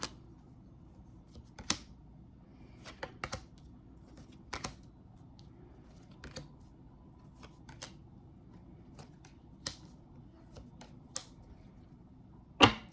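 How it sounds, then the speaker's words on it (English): Tarot cards laid out one at a time on a table, sparse soft slaps and flicks spread across a quiet room, with a louder card snap near the end and no talking. "I'm going to go ahead and lay out all of the cards"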